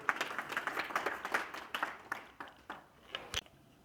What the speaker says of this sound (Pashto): حیات محمد صابر ساز د چکچک په بدرګه رابولو